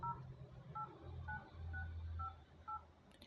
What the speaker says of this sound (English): When I press buttons on this dial pad